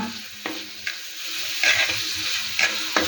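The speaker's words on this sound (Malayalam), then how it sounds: "അപ്പോൾ ഇങ്ങനെ ഇതൊന്ന് വഴറ്റും" Catfish curry ingredients being sautéed in a pan for a Kerala-style chilli fish curry: a steady sizzle with a spoon scraping and stirring at irregular moments, close and clear with no talking.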